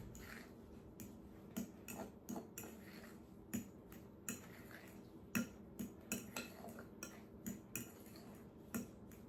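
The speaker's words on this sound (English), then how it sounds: "Stir that up again." A spoon stirring tattie scone mixture in a bowl, with steady repeated clinks and scrapes against the side, close but quiet, no talk.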